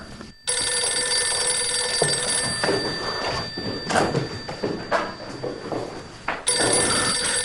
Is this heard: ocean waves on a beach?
no